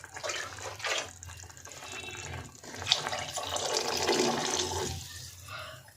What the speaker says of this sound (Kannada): ಅದಕ್ಕೆ ಒಂದು 2 ಗ್ಲಾಸಸ್ ಆಫ್ ವಾಟರ್ ಹಾಕ್ತಾಯಿದ್ದೀನಿ